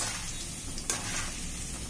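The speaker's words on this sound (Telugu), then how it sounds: "అటుకులు తొందర తొందరగా వేగిపోతాయి. కొంచెం వేసుకొని వేయించుకోవాలి." Poha, flattened rice, fries in oil with a brief, dense crackling sizzle and one sharp rustle partway through.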